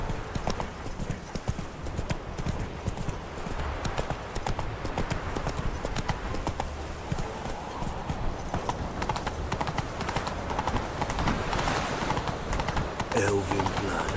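Roach, a horse in The Witcher 3, gallops with a steady, loud clip-clop of hooves throughout, mixed with game sounds and a voice talking over it.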